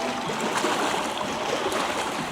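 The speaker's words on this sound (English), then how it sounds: "I'm sure you can hear the sound of the water." Steady flowing water, like a stream or river current, runs as a continuous, fairly loud wash with no clear breaks and no voices, heard on a summer vacation outing in Minnesota.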